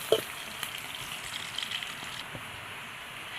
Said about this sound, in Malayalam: ഓയിൽ ഒഴിച്ച് കൊടുത്തിട്ട് ഇതൊന്ന് വറുത്തെടുക്കണം